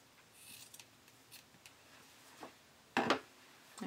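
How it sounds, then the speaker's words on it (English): Scissors snip stretch bikini fabric close to a stitching line, a few faint cuts followed by one sharper, louder double snip near the end, heard close up in a quiet room. "now on the back, you can just trim this back close to your stitching line"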